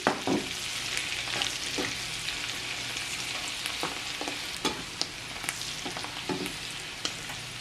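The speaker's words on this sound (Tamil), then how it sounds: "இன்னும் கொஞ்சம் பொரிவடா காணும்." Eggplant and clams frying in hot oil for a fried curry, a dense steady sizzle close by with frequent small pops and crackles and the occasional clink of stirring, no voices.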